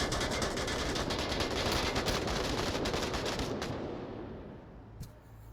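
A dense barrage of rapid gunfire in the VR shooter game Onward, loud and continuous, tapering off into a few scattered shots and a fading tail.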